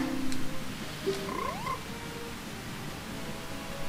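Frog croaking in The Legend of Zelda: Majora's Mask, a few short synthesized croaks and chirps with a rising swoop near the middle, set over a steady game music bed at moderate level.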